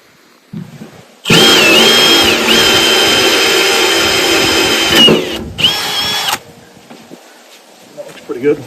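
Power drill boring a 3/4 inch hole from a pilot hole while fitting a Piranha tooth bar to a Kubota tractor bucket, loud and steady for about four seconds, then a short pause and a brief final burst.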